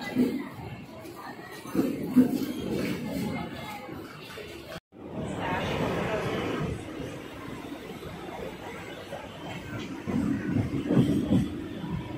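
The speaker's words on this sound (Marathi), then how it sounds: "मुंबई लोकल" A Mumbai local fast commuter train to Churchgate rumbles and rattles along, with shuffling and a brief dropout, moderately quiet with scattered voices in the background.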